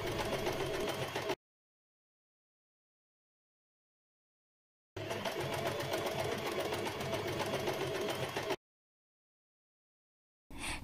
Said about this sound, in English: I attach all 4 of them with the help of the sewing machine on all the 3 sides.